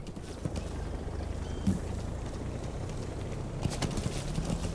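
Steady clip-clop of hooves from D-Horse, the horse companion in the video game Metal Gear Solid V, trotting in a continuous rhythm over a dense game soundscape, with no talk.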